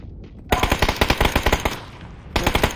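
Automatic AK rifle fire in a video game, with a long loud burst of rapid shots followed by a brief pause and a shorter second burst, close and alone.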